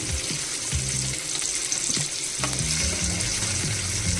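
Stuffed bangda mackerel frying Malvani style in a pan, a steady close sizzle with occasional scraping and clinks from turning the fish.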